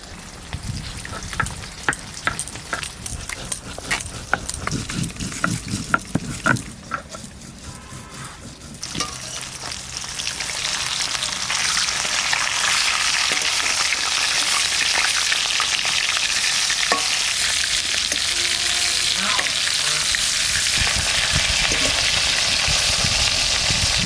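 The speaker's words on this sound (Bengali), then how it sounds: "মাগুর মাছ রান্না করছি মাছ ছেড়ে দিয়েছি" Magur catfish frying in hot oil at home, a loud, dense sizzle swelling after a crackly, spitting start and then roaring steadily up close, with no talk.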